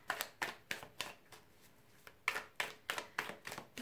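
A tarot card deck is shuffled by hand in quick rhythmic riffles, a series of close, soft crisp bursts with a short pause midway and no talking.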